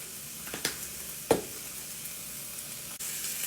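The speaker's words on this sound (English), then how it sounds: "you just want to saute them sausages for about 3 to 4 minutes" Sausages sauté in a pan with a soft, continuous sizzle. A few sharp clinks and stirring knocks sound close by, and there is no talking.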